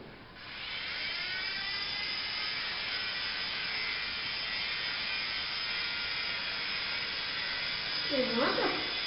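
A small toy helicopter flies inside a house, its electric rotor whining steadily like a buzzing motor, with a voice speaking briefly near the end.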